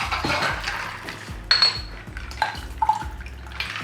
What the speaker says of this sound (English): Now pour it into your glass